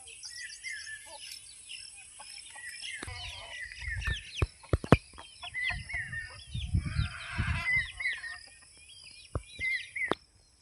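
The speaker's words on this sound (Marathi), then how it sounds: "प्युअर गावरान कोंबडे कसे असतात बघू शकता" Free-range country chickens cluck and chirp outdoors on a farm field, with scattered calls and a few short knocks or thumps in a quiet rural setting.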